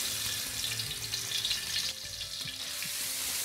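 Garlic paste frying in about three tablespoons of hot oil, a soft continuous sizzle and crackle with occasional scraping from stirring, fairly quiet and without talk.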